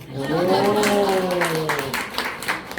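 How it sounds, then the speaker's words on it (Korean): An audience at a talk show claps together, a dense wash of applause under a speaking voice that fades out partway through. "박수 치세요"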